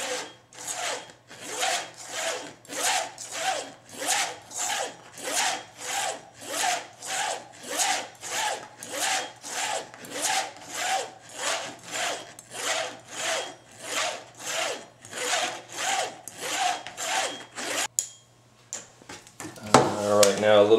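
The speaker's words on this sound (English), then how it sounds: "first thing I'm going to do is a little stropping. A little bit on the canvas side." A vintage straight razor is stropped on the canvas side of a strop, giving about two dozen rhythmic, evenly spaced rasping strokes close up, then stopping for a brief handling rustle.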